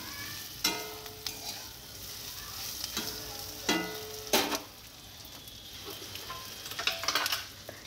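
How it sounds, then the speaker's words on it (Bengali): Fried hilsa fish heads go into a frying pan for biulir dal, giving a quiet ongoing sizzle broken by several short scraping knocks of a spatula against the pan. "এর মধ্যে দিতে হবে মাছের ভেজে রাখা মাছের মাথাগুলো।"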